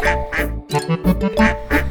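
A voice imitates a duck with a short series of sung quacks, repeated in a bouncy rhythm over light musical accompaniment.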